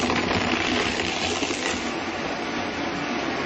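A Vitamix blender runs steadily on a green vegetable shake, a dense, constant whir with no pauses, heard close and loud on its own throughout.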